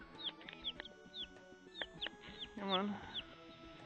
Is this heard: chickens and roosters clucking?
yes